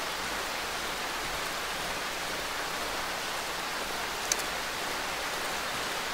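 Steady broadband rain in the horror survival game Darkwood, a constant even hiss filling the whole stretch, with one brief faint click near the end.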